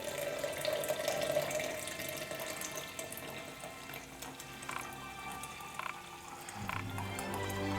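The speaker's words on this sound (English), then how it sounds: "And then we're going to take 14 ounces of hot water and pour it in." Fourteen ounces of hot water poured in a steady, continuous stream, a close, fairly quiet splashing flow that runs for several seconds with no voices.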